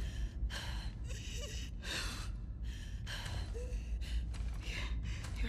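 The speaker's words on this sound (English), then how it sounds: "Your breathing's worse." Wounded character in The Last of Us Part II video game breathing laboriously, with repeated ragged gasping breaths and sighs in an uneven rhythm, close and steady over low game ambience, no talking.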